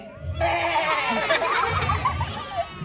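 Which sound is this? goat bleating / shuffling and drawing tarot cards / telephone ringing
goat bleating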